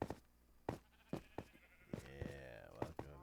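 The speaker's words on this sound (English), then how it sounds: "I've just never seen a natural brown sheep." Sheep in Minecraft bleat in short, sharp bursts, several spaced calls with one longer wavering bleat near the end, all clear and close over a quiet background.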